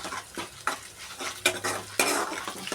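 Indian tempering of spices crackles in hot oil in a pan while a spoon stirs and scrapes it, giving repeated close sizzling bursts and metallic scrapes at an uneven rhythm.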